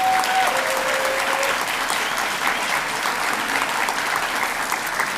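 Sustained audience applause at Santa Ana College's spring convocation, a steady wash of many hands clapping that continues evenly throughout, with a faint crowd murmur beneath.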